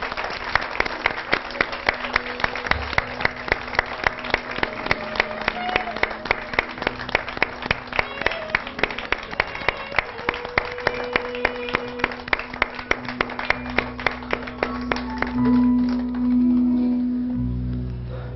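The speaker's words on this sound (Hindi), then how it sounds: "खड़े होकर ताली बजाएं उनके लिए" A studio audience at a Pakistani television show claps in a regular, rhythmic beat while standing for a guest, with music playing underneath; the clapping fades out near the end as a sustained tone takes over.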